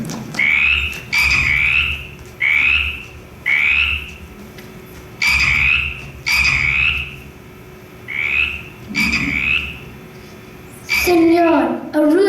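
Children in a primary school rainforest assembly play imitate tree frogs with a rhythmic run of paired croaking calls, evenly spaced and fairly loud, followed by a young voice speaking at the end.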